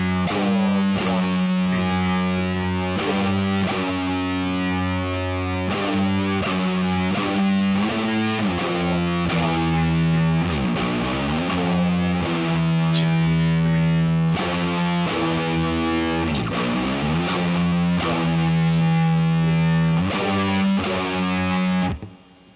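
Heavily distorted electric guitar plays a sludgy riff with layered overdubs, thick sustained chords and bending slides, loud and continuous without talk until it cuts off at the end.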